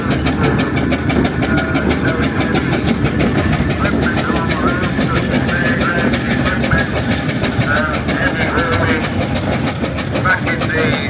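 A Garrett agricultural single steam traction engine runs at a steam and vintage rally, giving a loud, steady mechanical chuffing and clatter with a continuous rhythmic beat throughout, and faint voices somewhere in the background.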